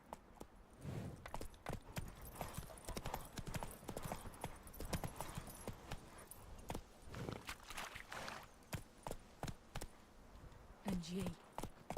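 A horse in The Witcher 3 video game clops along at a steady rhythmic pace, hoofbeats close and distinct, with a brief whinny near the end and faint game voices in the background.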